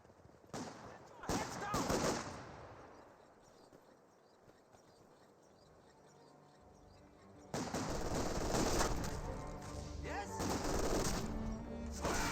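Company of Heroes 2 battle gunfire: bursts of machine-gun and rifle fire crackle, fade under quieter talk, then return as a sustained loud barrage of shots and explosions.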